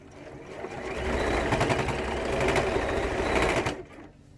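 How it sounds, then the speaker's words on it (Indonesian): A sewing machine stitches a zipper onto an Ezie landscape pouch, running steadily and close for about three seconds with a fast, even motor whir before stopping abruptly, with no voices. "Kemudian kita lanjutkan untuk menjahit zippernya."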